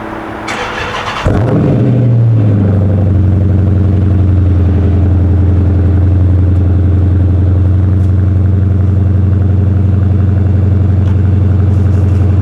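A stock 5.7 Hemi car engine with about 80,000 miles, in a stick-shift car, cranks briefly with the starter, then catches and settles into a steady, loud, rumbling idle that continues alone for about ten seconds.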